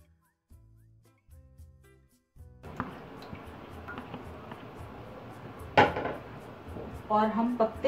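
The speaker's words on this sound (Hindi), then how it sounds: "चमचा मुस्तकिल चलाना है" A spoon keeps stirring a pistachio ice cream mixture in a pan as more of the mixture is added, giving soft metallic scrapes and clinks with wet, sloshing touches that grow busier toward the end.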